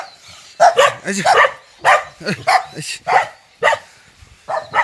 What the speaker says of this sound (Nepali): मलाई यहाँ वेलकम गर्न आएको छ 2टा कुकुर